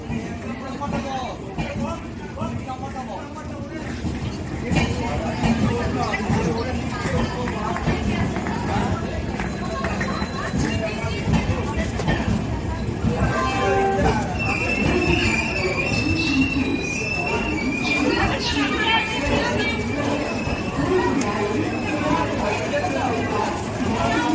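A train stands at a busy railway station as passengers board a coach, with steady rumbling, squealing wheels and metallic clatter all around and people talking throughout.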